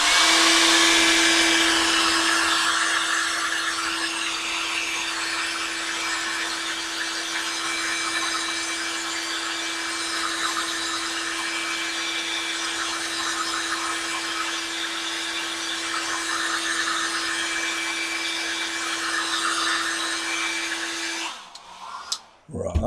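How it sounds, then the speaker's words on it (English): A hairdryer blows hot air in a loud, steady, continuous whir with a constant motor hum for about twenty seconds, then clicks off abruptly near the end. "I've got a hairdryer here. I'm going to heat my forehead up to above 37"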